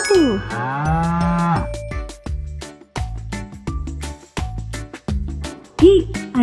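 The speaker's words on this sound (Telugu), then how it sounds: "ఆ అంటే ఆవు." A cow lets out one long, low, wavering moo at the start, followed by a bouncy, beat-driven children's tune for the rest.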